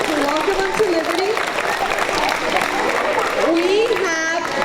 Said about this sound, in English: give them a big round of applause to welcome them to Liberty